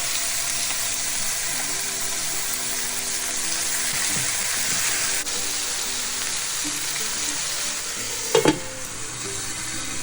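Meat pieces fry in hot oil in a skillet, a steady loud sizzle that runs throughout, with a couple of brief clatters near the end and no talking.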